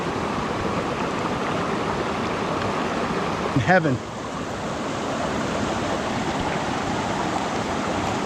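Cold mountain stream water in the White Mountains of New Hampshire rushes steadily and close by, with a short burst of a voice partway through.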